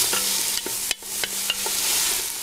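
Garlic frying in hot oil in a pan, stirred with a utensil, gives a steady close sizzle with several distinct scraping strokes, and no one speaks.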